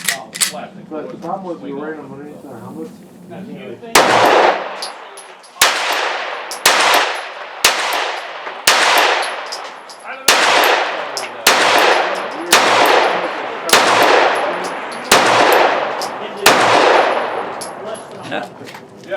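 A Springfield Armory Hellcat pistol fires a rapid string of about a dozen loud, sharp gunshots at a steady pace, each with a short echoing decay, following a stretch of talking at the start.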